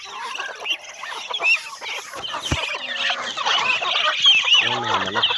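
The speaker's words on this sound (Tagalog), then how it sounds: "Ayan mga manok." Several chickens cluck and squawk together close by, a busy, continuous flock chatter with a few louder calls standing out.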